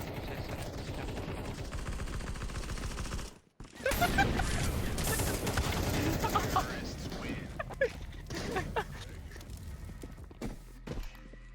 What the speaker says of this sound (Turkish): Abi adamla pompalı savaşına girdik.